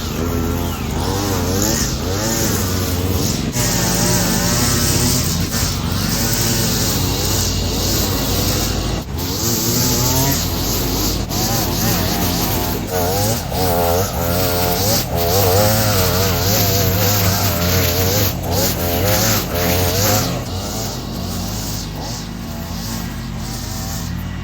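A gas weed-eater string trimmer with a new head cuts through bushes, its small two-stroke engine whining loud and close throughout, rising and falling as the throttle changes.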